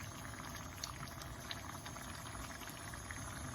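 A pot of dal and snake gourd curry simmering, a continuous soft bubbling with small pops scattered through it, low in level and steady, with no speech.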